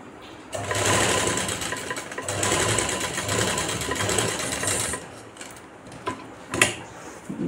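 A sewing machine stitches a sleeve in two steady runs of rapid, close mechanical whirring, then gives a few short, quieter bursts near the end.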